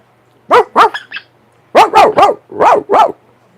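A man imitates a dog with his own voice, giving two quick barks, a pause, then a run of five loud, close barks in steady rhythm, with no other talk.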